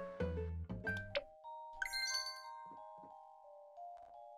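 A chiming bell calls farm animals in the Harvest Moon farming video game: a bright melodic ding-dong of ringing tones with lingering sustained notes and a few soft game blips, clean and alone.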